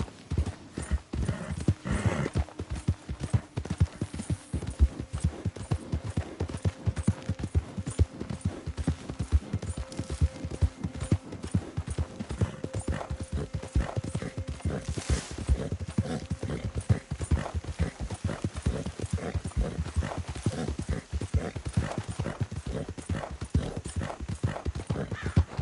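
Hooves clip-clop in a steady trotting rhythm for a long stretch, close and distinct, with an occasional whinny mixed in.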